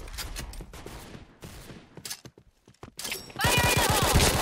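Bursts of video game gunfire crackle amid a busy battle mix, with sharp transients early, a brief lull, then a loud dense barrage near the end.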